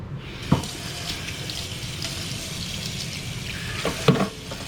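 Running tap water rinses a sand perch fillet, a steady broadband splashing stream held close and moderately loud throughout, with two brief louder knocks or splashes near the start and end; no talking.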